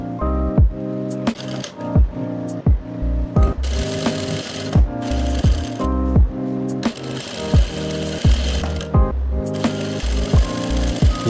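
A sewing machine stitches kurti fabric in repeated short bursts, each run of rapid needle clatter stopping and starting again, loud and close, with no talking.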